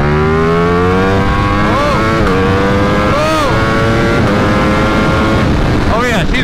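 A 2020 Ducati Streetfighter V4 with a flashed ECU tune, accelerating hard as a loud, close engine roar that climbs steadily in pitch through the gears, with brief dips at each shift.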